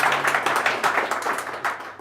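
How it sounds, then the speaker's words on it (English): Audience applause at a GraphQL meetup talk, a steady wash of many hands clapping, fairly loud and close, with slight murmuring underneath. "applause. Applause."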